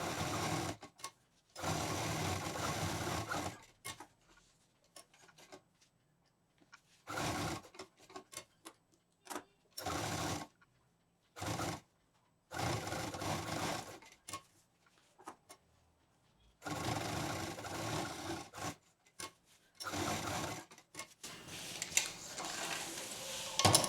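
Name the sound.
sewing machine stitching fabric for a patchwork bag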